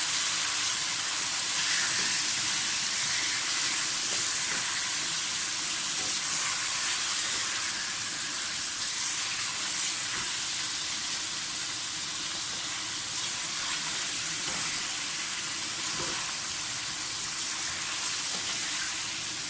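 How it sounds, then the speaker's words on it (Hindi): Garlic and ginger fry in oil for a Peshawari salted mutton curry, a steady, dense sizzle with a constant hiss that carries evenly throughout, close and fairly loud with no voices. "लहसुन अदरक को थोड़ा सा फ्राई करें।"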